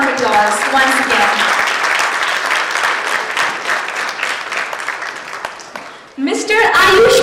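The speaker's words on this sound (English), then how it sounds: "Please cheer them up with a huge round of applause once again." A crowd at the 2017 Glocal Teen Hero event applauds the finalists with loud, sustained clapping, while a voice speaks over the opening moments and again at the end as the applause continues.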